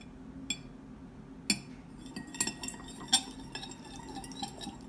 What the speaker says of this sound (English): give it a quick mix and use the back of your spoon to crush clumps